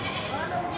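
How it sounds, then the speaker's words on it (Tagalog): Goats bleat at a busy goat farm with many animals penned together, a wavering cry heard close and loud beneath continuous talk and crowd noise. "Napakaraming kambing ho."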